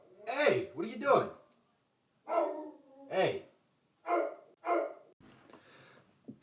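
A dog gives a run of loud, sharp barks close by, in separate bursts with short pauses between them. A person briefly speaks among them, and quiet breathing follows the last bark.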